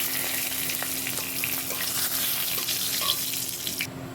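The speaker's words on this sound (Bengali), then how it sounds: "এবার আমি তেলের উপরে দিয়ে দেব গোটা সাদা জিরে এবং দিয়ে দিচ্ছি দুটো ছোট সাইজের তেজপাতা" Whole white cumin and two small bay leaves fry in hot oil, making a steady, close, dense sizzle that crackles on without pause.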